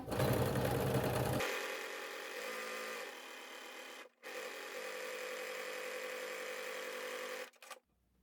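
Sewing machine stitching around a Christmas stocking, with a steady, close, whirring run that pauses briefly and resumes, then stops near the end.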